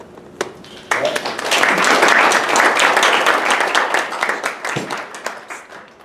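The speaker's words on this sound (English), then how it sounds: "give them a little round of applause after each one" A group bursts into applause after a couple of isolated claps, building into a full round of clapping that tapers off over several seconds, at a softball awards banquet.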